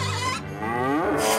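Goats kept on a large rural household farm bleat in loud, nearby wavering cries, one call running into the next.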